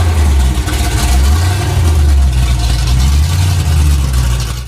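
A 1978 Lincoln Continental engine runs loud and close on a dyno, a deep throbbing rumble that swells and eases slightly as the revs shift.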